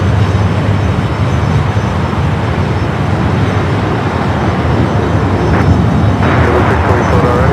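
A United Boeing 787 Dreamliner rolls down runway 25 Right at LAX on takeoff, a steady loud broadband jet roar filling the scene throughout, with faint voices talking underneath.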